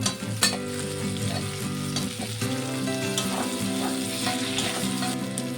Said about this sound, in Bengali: পেঁয়াজটা কিন্তু ভাজা হয়ে গেছে এখন দিয়ে দেবো আদা রসুন বাটা